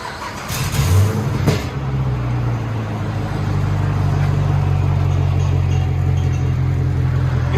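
A 2012 Chevy Camaro SS with a 6.2L V8 and its rear mufflers cut off barks loudly up close, then settles into a deep, rumbling idle that holds for several seconds with no talking over it.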